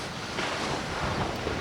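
Big ocean waves surge onto the shore at Gisborne, New Zealand, a steady loud wash of surf mixed with wind buffeting the microphone.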